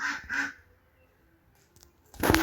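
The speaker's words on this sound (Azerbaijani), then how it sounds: "Bizim bu ördəklərin də səsləyən var." Ducks quacking nearby: two quick loud quacks, a quiet pause with faint rustling, then a burst of louder quacking at the end.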